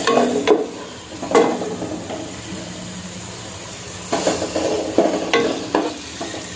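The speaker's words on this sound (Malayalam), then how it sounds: "എണ്ണ ചൂടായി വരട്ടെ. സവാള ഇതിലേക്ക് ഇട്ട് കൊടുക്കാം." Onions sautéing in hot oil for chicken biryani, a continuous sizzle broken by several loud scraping stirs of a spoon against the pan, close and clear, with no talk.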